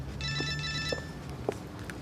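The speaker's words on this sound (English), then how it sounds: "that'll be me phone" A mobile phone rings indoors, a short electronic trill of bright repeating tones, moderately loud, followed by faint shuffling and small knocks as it stops.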